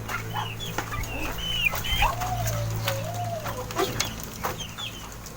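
Chickens cluck and chirp in a backyard coop, with scattered bird calls and a steady low hum underneath; no one talks.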